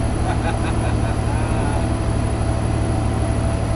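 A truck hauling marble dust drives along with its turbo audible, a loud, steady engine drone with a constant low rumble and a thin high whine running over it, unchanging throughout.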